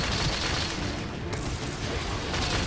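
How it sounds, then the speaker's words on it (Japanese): An explosion in Monster Hunter Rise: Sunbreak, a dense, loud crackling blast with a rumbling low end that fills the whole short moment without any pause. "爆発した"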